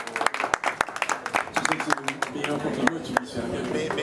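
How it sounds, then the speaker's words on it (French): A studio audience at a Martinique talk show claps in a burst of sharp, scattered hand claps that settle into a denser patter, with voices talking over the applause. "Je demande d'applaudir un exemple d'humilité"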